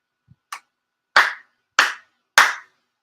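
Ritual hand claps at a Shinto prayer service. A faint tap and a light clap come first, then three loud, sharp claps follow at an even, deliberate pace with clear room decay, and no talking.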